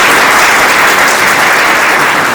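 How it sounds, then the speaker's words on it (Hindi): Loud, dense clapping from nursing students at a lamp lighting and oath taking ceremony, a close, continuous burst of applause. "मैं चाहूँगा आप लोग खुद के लिए एक बार ताली बजाएं"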